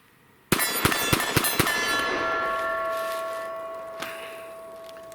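Pistol rounds, apparently from a SIG P365 XL, strike a 12-inch steel plate at 80 yards: a sudden loud impact followed by a quick run of four or five sharp clangs, leaving a long metallic ring that fades slowly.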